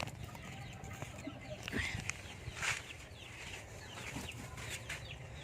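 Chickens cluck and murmur softly at a distance over a low, steady outdoor background hum.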